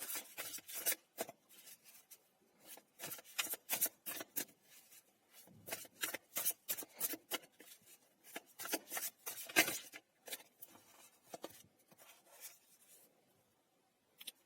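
A tarot card deck being shuffled by hand, with repeated quick riffling and sliding bursts, close and fairly soft, in uneven runs with short pauses and no talking.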